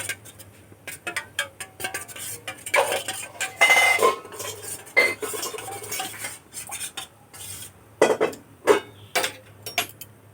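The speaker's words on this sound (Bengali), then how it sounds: "এই বাটির দুধের মধ্যে কর্নফ্লাওয়ারটা দিয়ে খুব ভালো করে আমি মিশিয়ে নেব এভাবে করে" A utensil stirs cornflour into milk in a bowl, making quick repeated clinks and scrapes against the sides in an uneven rhythm, close and fairly clear with short pauses.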